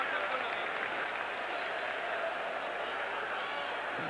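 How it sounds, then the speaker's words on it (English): A stadium crowd at a football match applauds a goalkeeper's routine save, a steady, distant wash of clapping and cheering under a commentator's voice. "gets enormous applause around me for what was a pretty bread and butter save"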